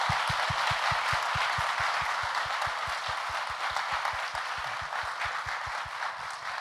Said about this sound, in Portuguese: eu queria convidar vocês para dar um aplauso especial para a dedicação dele a esse tema